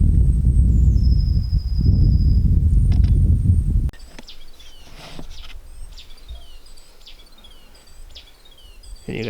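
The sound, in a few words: unfamiliar bird call in the wild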